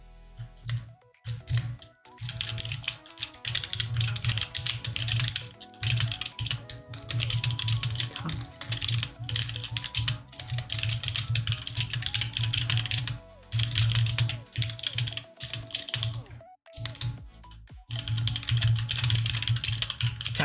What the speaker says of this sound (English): At least it's keyboard ASMR.